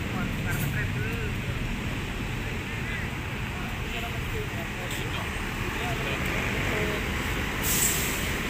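An MTI bus called Alugoro pulls out of the Cawang bus garage at night, a steady loud engine rumble throughout with a brief hiss of air near the end while a person talks over it.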